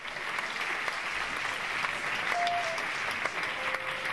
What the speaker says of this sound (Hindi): एक जोरदार ताली के लिए